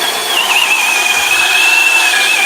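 A cordless power drill spinning a sharp blade through material, giving a loud sustained high whine that holds a steady pitch with a slight dip early on, close and alone.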